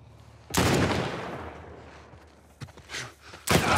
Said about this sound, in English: Oh, I shot him right in his throat.